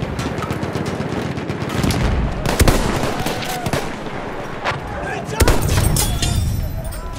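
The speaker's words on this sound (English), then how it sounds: "Spotted a machine gun." Machine gun fire in a video game battle at Fort De Vaux, a steady crackle of rapid shots with several louder sharp cracks and booms, under a voice calling out.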